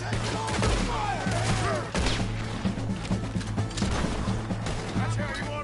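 Heavy gunfire in Red Dead Redemption 2, a dense barrage of shots and cracks running continuously under shouted voices and other battle noise.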